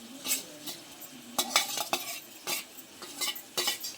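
Aakur wild greens stirred into a pan in a village kitchen, a run of scraping clinks from the utensil against the metal over a faint sizzle, with no voices.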